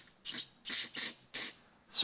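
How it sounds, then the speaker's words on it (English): Carburetor cleaner sprays in four short, sharp hissing bursts with brief gaps between them, close and fairly loud, as a Honda-style carburetor is cleaned during a workshop repair. "it's good to take some carb spray"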